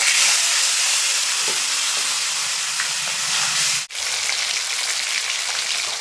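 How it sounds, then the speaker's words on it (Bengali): Pieces of fresh river fish, katla, sizzle in hot oil in a village-style kitchen: a steady, loud frying hiss that dips briefly near the end, with no talking. "তুলে বাকি মাছটাও একইভাবে ভেজে নেবো"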